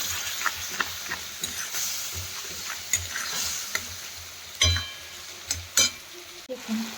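Masala with cumin, chilli and salt fries in a pan as a spoon stirs it, giving a soft sizzle broken by sharp clinks and scrapes against the metal, close and without talk.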